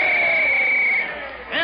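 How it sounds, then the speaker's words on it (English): A restless football crowd for an old-time radio comedy broadcast, rendered as a steady, dense murmur of many voices with a sustained whistle-like tone riding on top, easing slightly near the end before a brief rise. "The crowd is getting restless."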